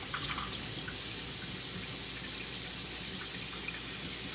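Tap water runs steadily and fairly loudly while a bowl is rinsed and washed beneath the stream, a continuous hiss and splash with no voices.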